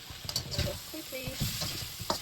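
Torn mushrooms fry in a pan and are stirred, giving a soft sizzle with light scraping and clinking of the utensil, quiet and close, over a couple of seconds.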